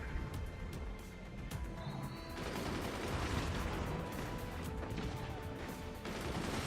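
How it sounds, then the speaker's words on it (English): Incendiary shotguns firing in the physics strategy game Forts, a dense rumbling barrage of overlapping blasts and crackling impacts, loud and sustained with rapid repeated shots layered together. "The incendiary shotguns."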